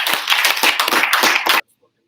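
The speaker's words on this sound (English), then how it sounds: "give Comrade Amanda and Dominic another big round of applause" A meeting audience gives a loud round of applause for two speakers, dense and close, ending abruptly after about a second and a half, with no talk over it.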